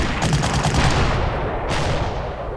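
Gunfire in a Panzer Corps Gold wargame battle: a loud, close burst of rapid repeated shots that rattle like machine-gun fire, fading off toward the end, with no talking.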